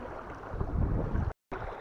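Strong gusty wind roars across the microphone on a sunny day by the water while bottom-fishing with a worm-baited rig. The rumble is heavy and buffeting and breaks off briefly near the end.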